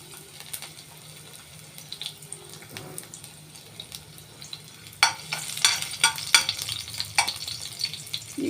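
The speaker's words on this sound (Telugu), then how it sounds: "ఆయిల్ హీట్ అయిన తర్వాత ఒక 4 వెల్లుల్లి రెప్పలు కచ్చాబచ్చాగా దంచుకుని" Crushed garlic cloves frying in hot oil in a pan, a steady close sizzle that turns louder and crackly partway through as they are stirred, no talking.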